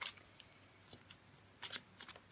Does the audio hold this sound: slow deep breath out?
no